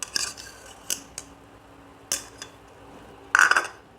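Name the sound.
beating an egg in a bowl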